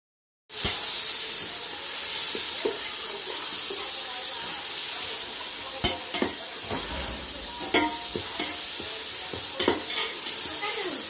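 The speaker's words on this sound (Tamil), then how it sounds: "இப்போ நான் போட போகிறது மல்லி புதினா போட்டுட்டு நல்லா ஃப்ரைட்" Coriander and mint leaves are stir-fried over browned onions in a pan for chicken dum biryani, with a loud constant hiss and sizzle broken by irregular sharp clacks of a spoon against the pan.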